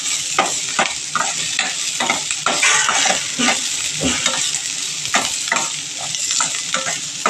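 Onion frying in a pan for drumstick leaf sambar, a loud continuous sizzle broken by repeated stirring scrapes at an irregular rhythm, close up with no talking.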